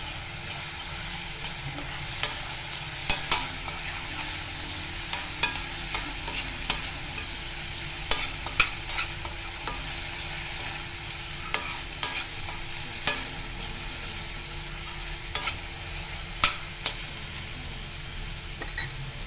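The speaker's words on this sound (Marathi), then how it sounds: "आपण त्यात आता टाकतोय हिरवी मिरची" Green chillies and curry leaves frying in a pan for matar poha, a steady soft sizzle broken by repeated clicks and scrapes as they are stirred.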